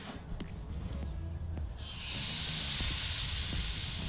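Pork tenderloin hitting a hot pan, low clatter and rumble giving way to a loud, steady, close sizzle that keeps going to the end.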